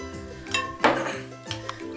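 Spoon scraping and clinking against a bowl while chocolate is stirred into whipped cream, with a few light knocks and clinks in quick succession, close and fairly loud.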